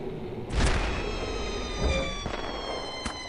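Rockets fire from an airship in the Air Buccaneers game, two heavy booming launches about a second and a half apart, each followed by a long ringing whoosh, with a fainter pop near the end.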